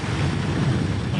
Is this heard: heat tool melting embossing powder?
no